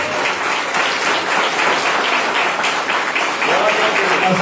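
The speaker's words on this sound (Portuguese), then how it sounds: "Você pode aplaudir a Jesus" A church congregation applauds in a loud, continuous, even wash of clapping that holds steady throughout, with voices faintly mixed in.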